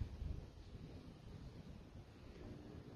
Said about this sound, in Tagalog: Ayun ang lakas ng hangin.